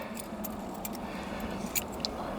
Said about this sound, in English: one of the these are the original keys